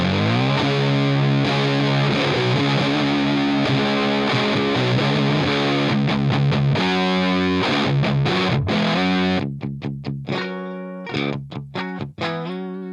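Electric guitar through a Drunk Beaver Bat Cold War distortion pedal on its hard setting, thick saturated chords and riffs played loud and continuous, ending in choppy staccato stabs with short silences.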